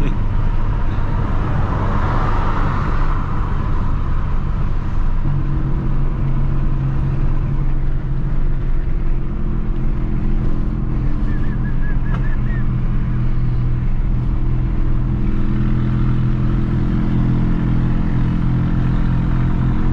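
Engine of a VW Gol fitted with a Polo TSI turbo engine and a straight-pipe exhaust, a loud continuous drone that holds steady and shifts pitch slightly as the car drives along the road.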